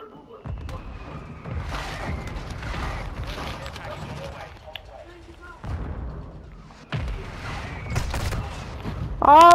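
Repeated mortar strike explosions and gunfire erupt in Call of Duty: Modern Warfare II, booming bursts spread across several seconds with a fresh blast near the end, while a player's voice talks over parts of the barrage.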